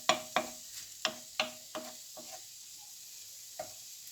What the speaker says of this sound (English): at this point I like to add the mango chutney and just sort of touch fry that a bit